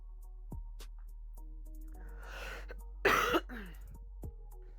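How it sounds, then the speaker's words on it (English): A person gives a single harsh cough, loud and close, after a little throat clearing, in a quiet room with steady background hum. "Sorry about the cough."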